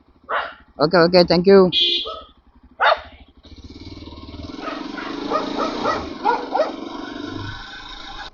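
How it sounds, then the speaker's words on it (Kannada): A dog barks in a quick burst near the start, followed by talking and a running engine in the background. "ನಾಯಿ ವೆಲ್ಕಮ್ ಮಾಡ್ತಿದ್ದೆ ನಮಗೆ."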